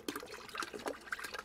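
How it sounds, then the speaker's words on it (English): Descaling solution is poured into a bucket of water holding a pump for flushing a tankless water heater, a faint, close trickling and splashing stream with irregular small bursts. "I'm going to add my solution into the bucket."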